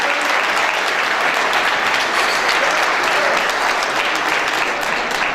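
Guests at a Nowruz celebration applaud in a dense, steady burst of clapping that stays loud and even from start to finish.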